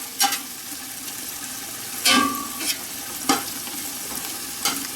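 Food browning in canola oil in a soup pot sizzles steadily while a utensil stirs it with several sharp scraping knocks, close up and without speech.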